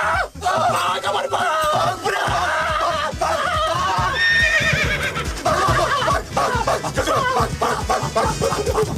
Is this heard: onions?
no